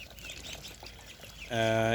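Twelve-day-old Pekin ducks of the Peking Star 13 breed give one loud, nasal quack up close near the end, after a stretch of quieter background sounds.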